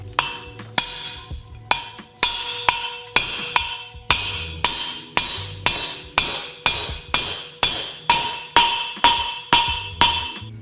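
A metal tool taps a bearing into a model train wheel in a steady series of about twenty sharp, ringing knocks, close and loud, evenly spaced with no talking.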